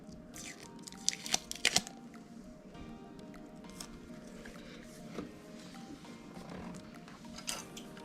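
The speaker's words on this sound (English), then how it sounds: "now we will cut off the excess from the bottom" Scissors trim the excess macrame cord at the bottom of a fishtail keychain: a quick cluster of close, crisp snips near the start, then quieter rustling and handling.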